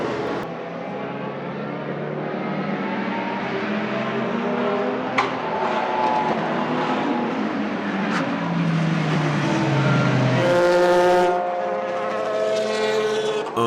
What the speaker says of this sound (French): des V8, V10 et V12 aux sonorités incroyables.